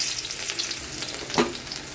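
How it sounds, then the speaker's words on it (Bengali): Chopped onion dropped into hot oil in a pan where tatkini fish is being cooked with bitter gourd and potato, giving a steady sizzle with a brief louder burst near the end, no talk. "এখন দিয়ে দিচ্ছে পেঁয়াজ কুচি"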